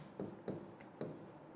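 Chalk or marker writing on a board during a Hindi lecture on child psychology, three quick scratchy strokes spaced close together, faint and with no talk.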